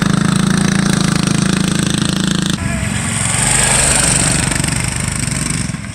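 Small dirt bike and a Hyperion go-kart engine running on a warm summer day in Missoula, Montana, loud buzzing motors droning continuously, shifting pitch partway through as the machines drive around nearby.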